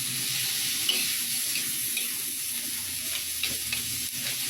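Pansit bihon with chicken sizzles in a pan, a steady bright frying hiss with faint scattered pops and light stirring, continuous and fairly close throughout.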